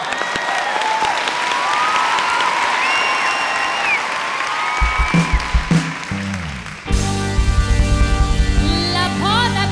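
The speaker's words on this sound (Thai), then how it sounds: "ขอเสียงปรบมือ" An audience on a televised Thai variety show stage applauds a performance, with broad clapping and some cheering carrying through the first half before music with a pulsing beat takes over.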